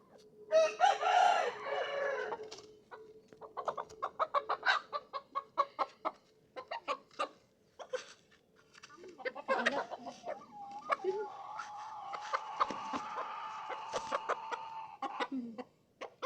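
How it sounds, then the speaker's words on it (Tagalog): Two fighting roosters kept in a backyard cluck and crow close by. A long crow is followed by bursts of clucking and squawks, with someone talking briefly between them. "Andito yung dalawang manok."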